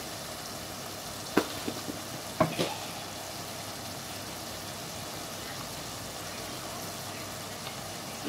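Ridge gourd pieces cook quietly in a pan, a faint, even sizzle with a couple of brief spoon clinks from stirring near the start.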